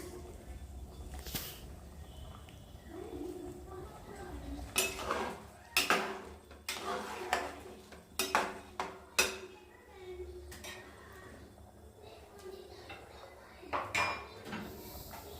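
Biryani ingredients with salt, coriander leaves and lemon being stirred in a pressure cooker, a string of loud metallic clanks and scrapes from a spoon against the pot, irregular and close, with quieter rustling between.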